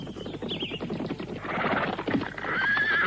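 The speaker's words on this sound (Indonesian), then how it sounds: "Sementara itu di kejauhan terdengar suara derap kuda." Galloping horse hoofbeats drawing steadily closer as a radio drama sound effect, a dense rapid clatter that grows louder and fuller toward the end, with a brief whinny-like cry in the middle.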